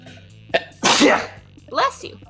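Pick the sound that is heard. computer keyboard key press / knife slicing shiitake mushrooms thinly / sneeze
sneeze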